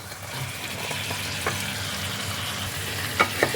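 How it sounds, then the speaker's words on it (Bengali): Fried potato and cauliflower pieces go into spices sizzling in oil, a soft steady crackle with a few brief clinks and stirring sounds near the end. "এবার আমি এর মধ্যে দিয়ে দিচ্ছি ভেজে রাখা আলু আর ফুলকপি"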